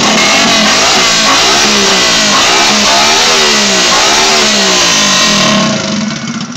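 A racing car engine, a 90 build, revs loud and close for the whole stretch, its pitch climbing and falling in repeated sweeps with no talk over it.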